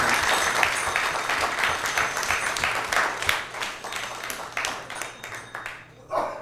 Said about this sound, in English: let's give a big round of applause to all the sponsors.